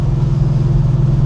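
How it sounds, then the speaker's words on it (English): A Porsche 911's deep, steady exhaust rumble drones continuously, loud and close, with a low throbbing pulse. "the exhaust had a very nice deep sound"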